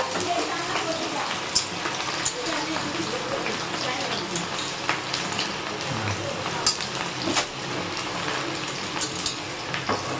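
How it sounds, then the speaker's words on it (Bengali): Onions frying in hot oil, a steady close sizzle with occasional crackles and stirring clicks throughout. "তেল গরম হয়ে গেছে। এই যে পেঁয়াজ দিয়ে দেবো, পেঁয়াজ দিয়ে দেবো।"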